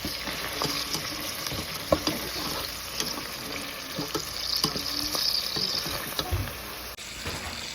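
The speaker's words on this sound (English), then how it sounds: "So I'm just gonna stir this up now." A spoon stirring a hot, sizzling cassava leaf dish gives a steady crackle and hiss with soft scraping strokes throughout, close by, with no talk.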